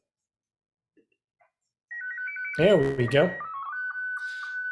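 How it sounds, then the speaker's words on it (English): Slow scan TV (SSTV) signal sent from a CubeSatSim satellite simulator's STEM payload board: steady warbling electronic tones that shift in pitch, heard close with a brief spoken remark over them. "So that's the sound of slow scan TV."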